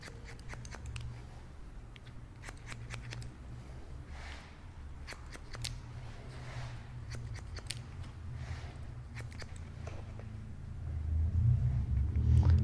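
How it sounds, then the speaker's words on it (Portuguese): Scissors snip steadily through hair during a fade haircut in a barbershop, a rapid run of crisp close cuts with a low rumble growing near the end. "agora eu vou tirar tudo na tesoura"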